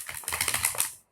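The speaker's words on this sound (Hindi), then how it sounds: "तो मेरे साथ बने रहिए जब तक मैं शफल कर लेती हूँ।" Tarot cards are shuffled close up in a quick, brief flurry of light crisp flicks lasting about a second.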